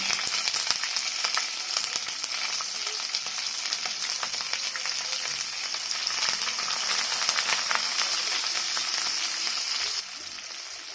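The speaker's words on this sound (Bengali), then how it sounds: "পেঁয়াজ আগে লাল করে ভেজে নেবো।" Onions frying in a pan with cumin seeds and green chillies, a steady, close hiss of sizzling oil lasting throughout, easing slightly near the end, with no talking.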